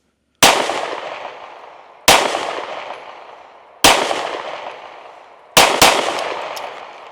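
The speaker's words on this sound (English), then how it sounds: "I'm going to shoot 5 more because I feel like it was even softer shooting" Canik Mete MC9L pistol firing defensive ammunition: five sharp, loud, close shots, evenly spaced apart from a quick double at the end, each followed by a brief ringing decay.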